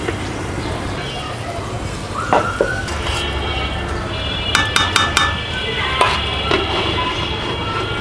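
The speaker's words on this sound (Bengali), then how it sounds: "লবণ মশলা কষে উঠছে এখন বেগুনগুলো দিয়ে দিচ্ছি" Eggplant pieces are stirred into a spiced catfish curry frying in a village kitchen, with a steady sizzle and repeated clanks of a utensil on the pot, while a person talks.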